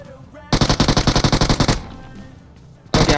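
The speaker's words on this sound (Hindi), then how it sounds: "अब यहाँ पर फायर हो रहा था" Loud automatic gunfire from BGMI rings out in a rapid, evenly spaced burst of about a dozen shots. A quieter stretch follows, then another burst starts near the end.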